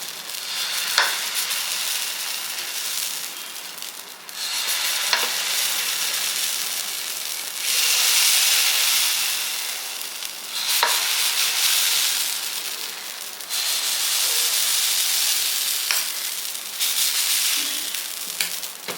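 Dosa batter poured in small uttapam-style rounds onto a hot dosa griddle on a stove sizzles and hisses steadily, swelling in repeated louder surges as each portion hits the pan.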